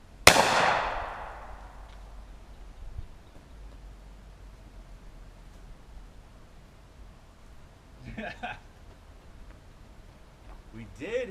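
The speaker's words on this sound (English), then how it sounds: "I'm just gonna shoot him, and if we just so happen to hit his leg," A single loud, sharp gunshot from a .40 S&W Hi Point carbine fired outdoors in a backyard opens the clip, followed by a fading echo and quiet background, with a couple of brief handling noises later.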